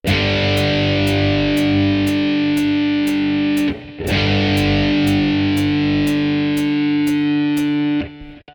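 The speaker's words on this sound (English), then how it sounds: "When you play a power chord, you get that distinctive rock sound, especially if you put a bit of distortion on it." Distorted electric guitar power chords ring out in two long sustained strums, the second struck after a brief pause, with evenly spaced ticks running through both.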